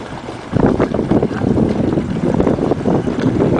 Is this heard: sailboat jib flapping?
yes